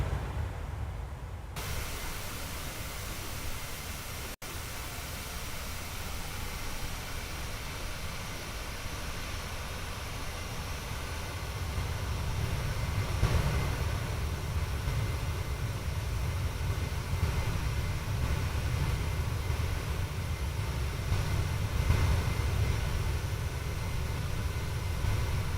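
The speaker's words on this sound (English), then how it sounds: "Real jet engine sounds there." Steady, muffled roar of jet airliner engines in cruise flight in a flight simulator game, low and continuous with a slight swell midway, no talking.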